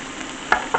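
Onion added to a hot pan, frying for a vegan red Thai curry with tofu: a soft, steady sizzle hiss with two brief crackling spits near the end.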